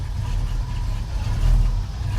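A V-8 engine in a 1989 Chevrolet S10 pickup idles low and steady at about 500 to 600 RPM, a loud, even rumble with no voices over it.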